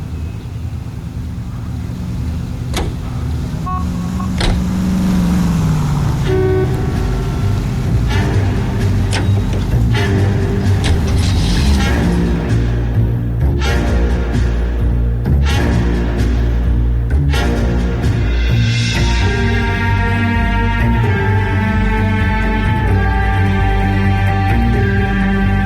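Car engine running and driving in the 1940s Los Angeles detective game L.A. Noire, a steady loud motor hum with shifting tones and music-like tonal layers over it, no talk.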